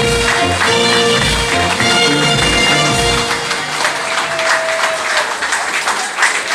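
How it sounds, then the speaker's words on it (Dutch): Audience at a Dutch carnival revue breaking into loud sustained applause, dense clapping throughout that thins slightly toward the end, with a few voices and music underneath. "Mag ik daarvoor een applaus voor John en Maurice Vesters."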